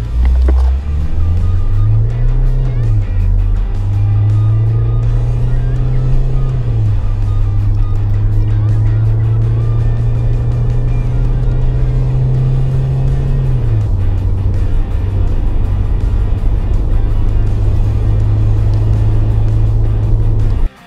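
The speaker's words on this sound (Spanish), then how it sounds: "Su aceleración se siente enérgica y una vez sobrepasa las 1600 revoluciones empuja con más fuerza" SsangYong Rexton Sports pickup engine accelerating, a steady loud low drone that climbs in pitch through the revs, holds, then eases back to a lower steady hum, continuous throughout with no talk.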